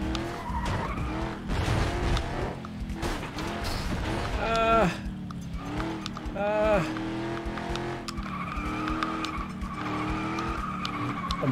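A car in the racing game Flatout 2 skids hard around a bend, tyres squealing in rising and falling screeches over a loud engine roar, with a voice talking excitedly over it.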